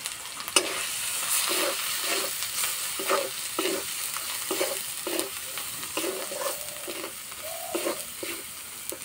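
Ground cumin, chili and turmeric fry in oil in a pan for a drumstick-stem chorchori, with a continuous sizzle and regular, rhythmic scrapes of a spatula stirring roughly once a second.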